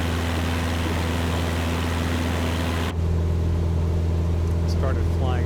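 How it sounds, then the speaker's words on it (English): A Cessna 172 engine in Microsoft Flight Simulator 2020 drones loud and steady as a constant propeller hum throughout, while someone talks over it. The cabin noise shifts character partway through. "Cessna 172."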